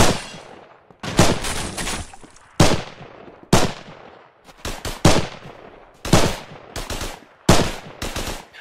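Bursts of automatic gunfire in a first-person shooter, loud sharp volleys repeating roughly every second with short rattling strings of shots and decaying echoes between them.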